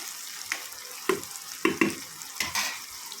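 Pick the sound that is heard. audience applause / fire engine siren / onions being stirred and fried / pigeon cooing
onions being stirred and fried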